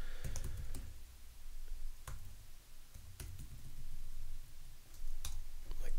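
Keystrokes on a computer keyboard while renaming a combinator in Reason 6 music software, several quick clicks spaced irregularly with brief pauses, close and moderately loud over a low background hum.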